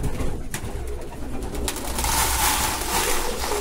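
A flock of pigeons coos and shuffles close by while being fed in the morning, with soft overlapping calls and fluttering rising toward the end.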